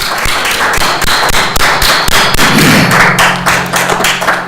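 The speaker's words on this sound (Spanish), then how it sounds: "Así que un fuerte aplauso." Conference audience applauding at the close of a talk on digital transformation in the jewellery sector: dense, sustained clapping with sharp thuds throughout, loud and steady, with a low hum entering near the end.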